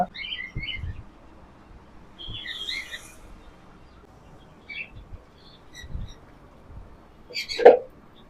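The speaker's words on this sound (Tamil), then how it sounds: "நம்ம கிட்ட லவ் பேர்ட்ஸ் இருக்கு ஆப்பிரிக்கன் லவ் பேர்ட்ஸ் இருக்கு" African lovebirds and other caged birds at a fish and pet shop on Arcot Road in Kodambakkam give sparse, fairly faint chirps and tweets over a low room hum, ending in one louder squawk.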